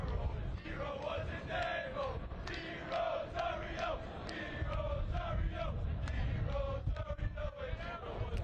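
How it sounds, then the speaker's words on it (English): Soccer supporters at an MLS NEXT PRO match between Toronto FC II and Carolina Core FC cheer and chant for Toronto's goalkeeper before a penalty kick, a steady, loud crowd roar with rising shouts. "Fans cheering on Toronto's goalkeeper, Dave Rosario."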